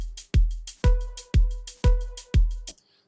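A synth stab from sound design recreating a track hits five times in a steady rhythm, each chord punchy with a deep low end and a bright attack. It plays alone, and the last hit cuts off abruptly into silence.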